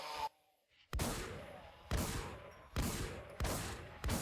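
Gunfire in the video game Infestation: Survivor Stories, shooting at the Super Zombie: loud, close bursts of shots repeat about once a second after a short silent gap, each burst trailing off before the next.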